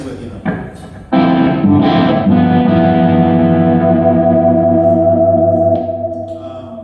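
An electric guitar played through distortion rings out, with a couple of short picked attacks followed by a sustained, reverberant chord that slowly fades. No one speaks over it.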